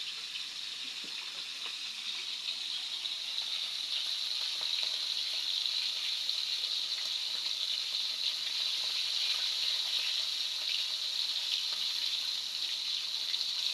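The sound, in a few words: frying galunggong fish in a hot pan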